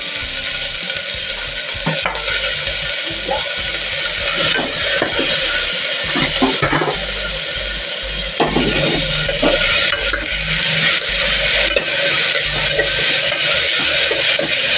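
Spices and tomatoes frying in a pan for cabbage pulav, with a steady loud sizzle under repeated scraping and clinking of a spatula stirring against the pan.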